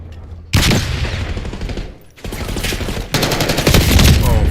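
A grenade blast and rapid gunfire in a video game come close and loud in dense bursts, with booming fusillades that pause briefly twice and then resume even heavier.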